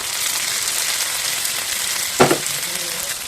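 Soaked cashews dropped into a sizzling potato curry, a steady hiss of hot oil with a sudden sharp crackle as they hit the pan, then the sizzle settles back.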